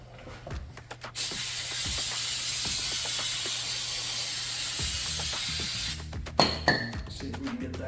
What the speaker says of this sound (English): So this obviously is your carburetor. Let's get a little bit of cleaner going here.